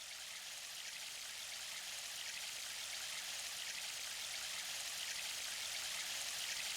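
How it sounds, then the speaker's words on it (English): Waterfall in the video game Sonic Adventure, a loud, constant bright rush of falling water that stays steady and unbroken throughout, with no voices over it. "It would maybe help if the waterfall wasn't so loud."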